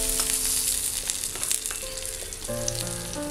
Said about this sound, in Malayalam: കറിവേപ്പില ഒന്ന് മൂത്ത് വരണം.